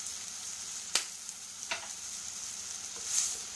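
Food sizzling and frying in a pan, seasoned with salt and pepper before tomato passata goes in, with a few scraping stirs of a spoon against the pan over a steady crackle.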